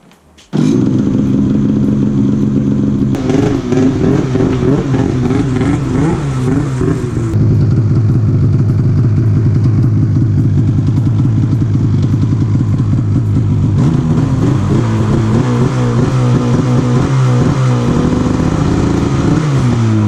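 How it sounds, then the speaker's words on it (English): An Arctic Cat M8000 snowmobile engine fires up with a sudden start, then runs loudly and close by, its pitch rising and falling through several revs and idling stretches, with no one speaking. "So now we're going to start up the sled and give it a test."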